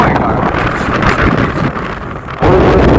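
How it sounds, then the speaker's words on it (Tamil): Strong wind on the coast buffeting the microphone, a loud broadband roar with gusty swells and a brief dip before it surges back. "காற்றுல பயங்கரமாக அடிக்குது பயங்கரமாக அடிச்சு"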